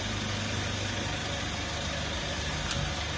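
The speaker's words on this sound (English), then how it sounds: "we've got a thing running, a Citroën 2-liter diesel engine" A Citroën 2-liter diesel engine runs steadily during hydrogen carbon cleaning in a workshop, a continuous droning idle with broad hiss throughout and no talk.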